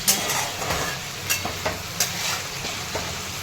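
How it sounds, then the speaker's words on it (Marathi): Cluster beans stir-frying in oil with garlic, cumin, mustard seeds and salt produce a steady sizzle with scattered spatula scrapes and clinks against the pan, close by and free of speech. "आता मीठ टाकत आहे चवीनुसार आणि परतून घेतो"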